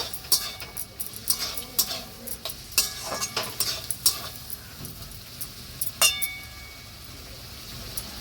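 Malabar spinach curry being stirred in a pan after sugar is added, with a ladle clinking and scraping in irregular bursts over a soft bubbling sizzle, then quieting toward the end.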